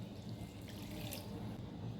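Cups of water are poured into a pan on the stove, a short splashing trickle at moderate volume.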